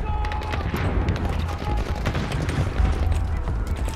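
Heavy gunfire from a Battlefield 5 battle rattles continuously, dense overlapping shots and bursts crackling at close range without a pause.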